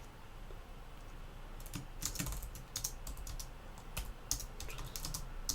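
Computer keyboard typing during a programming lecture on recursive linked lists, with a glitchy keyboard: irregular bursts of key clicks over a steady low room hum, close and moderately loud, no voices.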